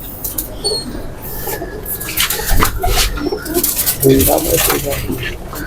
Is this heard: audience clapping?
no